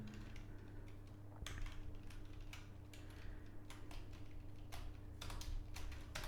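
Keys clatter on a computer keyboard in irregular bursts of light taps over a constant low hum, with no one talking.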